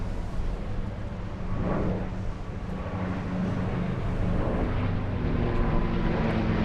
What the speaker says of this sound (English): There you hear hear that incredible roar out of that R2800 Pratt & Whitney engine